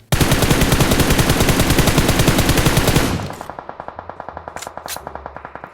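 Automatic rifle fire in the shooter game PUBG Mobile, a loud, rapid burst of rattling shots for about three seconds, followed by quieter, evenly spaced shots continuing in a steady rhythm.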